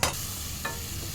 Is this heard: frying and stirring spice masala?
yes